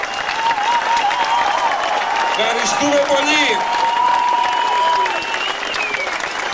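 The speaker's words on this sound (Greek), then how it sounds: "Ένα χειροκρότημα της περιοχής Κυρό." Outdoor concert audience at a concert in Dimitsana giving loud sustained applause, with someone speaking over the crowd through a microphone.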